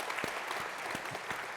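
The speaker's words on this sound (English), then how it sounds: "Another round of applause for them for being with us today." Steady applause from an audience at a university panel discussion, a dense wash of clapping sustained throughout at a moderate distance.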